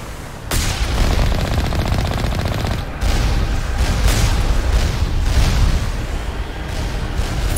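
Turrets fire in Mass Effect during an assault, a relentless stream of heavy rapid shots with booming impacts layered on top, loud and continuous with a sharp burst near the start.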